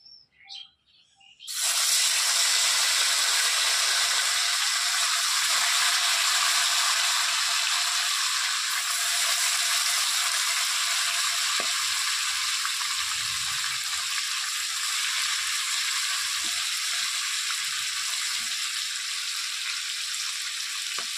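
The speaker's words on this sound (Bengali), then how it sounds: "তেল গরম হয়ে গেছে, তো মাছটা ভেজে নেব।" Chital fish frying in hot oil, a loud steady sizzle that starts abruptly after a brief pause and crackles on continuously throughout.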